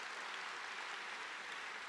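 Steady audience applause from a crowd at an Independence Day of Ukraine fundraising auction, a continuous, fairly even clatter of many hands clapping throughout, heard without speech.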